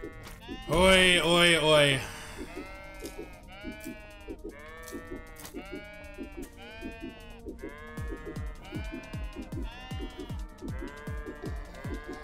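Sheep bleat repeatedly in the video game Turnip Boy Commits Tax Evasion, a string of short, wavering cries heard after a brief loud call from a voice at the start.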